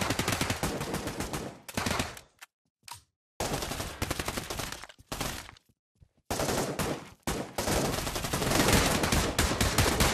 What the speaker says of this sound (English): I'm just shooting everyone that moves.